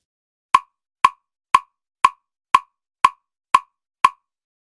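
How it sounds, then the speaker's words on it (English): A drum machine ticks out eight identical sharp clicks, one on every quarter note at 120 BPM, evenly spaced, crisp and dry with silence between hits. "We write down the beats on the grid on every fourth,"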